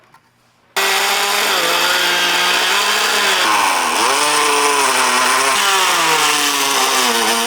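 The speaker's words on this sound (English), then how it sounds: "I'm going to go ahead and get my Dremel out, and I'm going to cut it" A Dremel rotary tool cuts through a brake duct, bursting on after silence into a loud, high whine that dips and rises in pitch as the cutting load shifts, alone and close.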